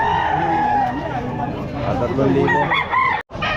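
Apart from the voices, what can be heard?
chickens at a pet market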